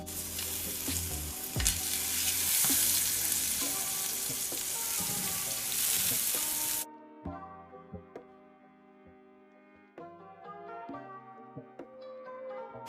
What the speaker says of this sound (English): Put in about 1 to 2 tablespoons of butter and just kind of let it melt down, and also add some minced garlic in there as well.